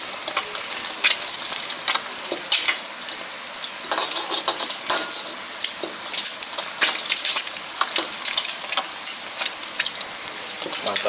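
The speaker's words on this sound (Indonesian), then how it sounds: "Oke, kita goreng lagi telurnya." Eggs fry plainly in a pan with a steady close sizzle and irregular crackling pops and spatters throughout, with no voices over it.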